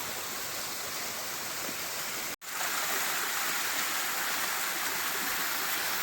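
A waterfall on a swollen stream at night roars in a steady, dense rushing wash, close and unbroken apart from a split-second dropout.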